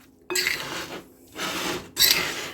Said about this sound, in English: I just toss it in and then I stir it around